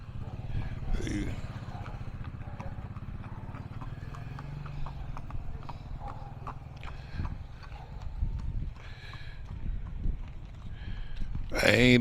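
Horse hooves clip-clop on a street beside a motorcycle, a steady beat running under nearly continuous nearby talk, with a louder burst of noise at the end.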